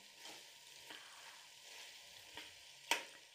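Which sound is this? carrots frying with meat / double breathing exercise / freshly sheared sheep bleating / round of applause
carrots frying with meat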